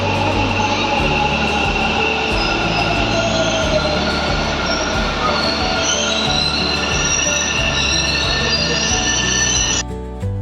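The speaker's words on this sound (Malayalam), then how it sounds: "ഞങ്ങൾക്ക് പോകാനുള്ള മെട്രോ ട്രെയിൻ വരുന്നുണ്ട്" A metro train pulls into a station, its steady loud rumble of rail wheels carrying through with high squealing tones from the wheels, and the noise continues without pause before easing off at the very end.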